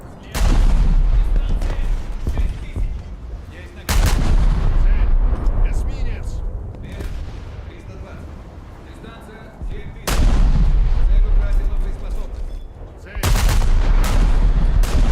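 Heavy naval guns on a Pr.68 cruiser fire shells in a naval warfare game, loud booming salvos arriving in separated bursts with rumbling aftermath between them, close and dominant.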